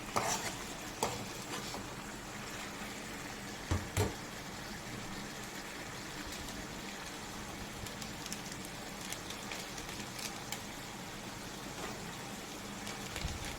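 Chicken gravy with dried red chillies and coconut being stirred in a pan, a faint, continuous low sizzle with soft scraping and a few sharper knocks of the spoon against the metal; no voices.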